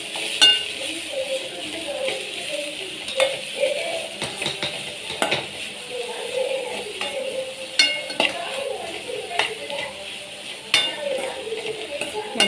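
Masala noodles with vegetables being stirred in a pan, giving a steady sizzle with repeated utensil scrapes and light clinks against the metal throughout.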